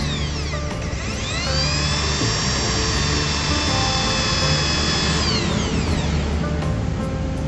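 A loud, steady electric drill whines continuously while drilling metal to remove a broken bolt stuck inside a Honda Grand motorcycle body, its pitch rising and falling as it spins up and slows, with no voices.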